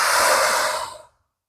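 A strong, breathy exhale during an at-home bodyweight ab workout, one steady rush of air about a second long that cuts off abruptly into silence.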